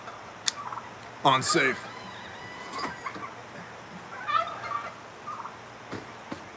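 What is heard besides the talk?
turkeys gobbling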